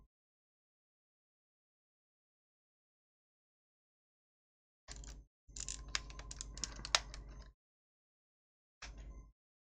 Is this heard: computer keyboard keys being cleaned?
yes